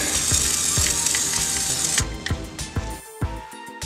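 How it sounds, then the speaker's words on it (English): Fluid Film rust-protection aerosol hisses out of the can in a continuous close spray onto a car's outer panel, then breaks into shorter bursts with clicks and handling knocks. "I'm gonna spray the Fluid Film on the outside"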